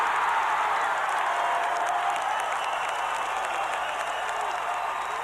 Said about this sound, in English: Lockhart dragged the Waitakere defence into a three-point play and the crowd went mad.